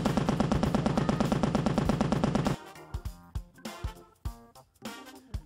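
Rapid automatic gunfire as a sound effect: a dense, loud burst of rattling shots for about two and a half seconds, then several separate single shots with echoing tails.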